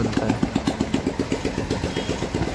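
A Royal Enfield motorcycle with ABS brakes runs at low speed, its single-cylinder engine thumping in a fast, even rhythm close by and fairly loud, with no speech.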